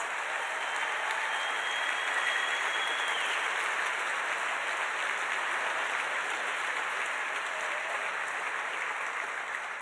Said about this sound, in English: Please give everybody a huge round of applause